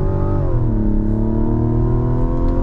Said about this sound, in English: We do get fake engine noise